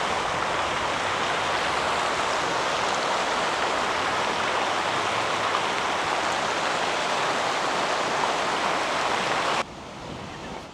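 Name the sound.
water noise from a city fountain in Luhansk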